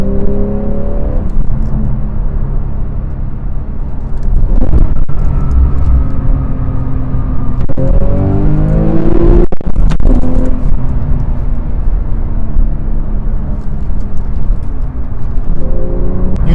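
A manual 991.1 Porsche 911 Carrera S with a naturally aspirated engine, driven in sport mode from inside the cabin, produces a loud, sustained engine drone that climbs in pitch through the revs and drops sharply at gear changes, with no talking.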